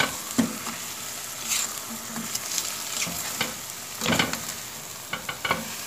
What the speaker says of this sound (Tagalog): we will add the spices. And everything, and then we will mix it